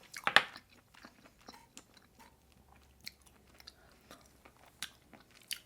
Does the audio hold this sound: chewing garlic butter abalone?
yes